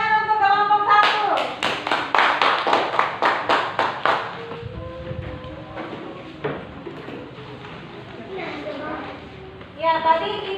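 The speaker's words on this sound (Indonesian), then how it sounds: "Ya, tepuk tangan untuk kelompok satu." In an Indonesian classroom, students clap together in a fast, even rhythm of roughly a dozen sharp, close claps. The clapping then fades and a teacher's voice carries on talking over faint room noise.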